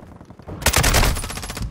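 A loud, close burst of rapid automatic fire from a Kastov 762 rifle in Call of Duty Modern Warfare II, rattling for about a second after faint background sounds.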